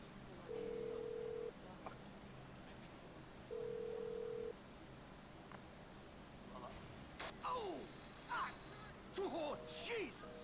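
A phone call in the video game Grand Theft Auto V: two long electronic ring tones spaced a few seconds apart, followed by clicks and short beeping tones as speech starts.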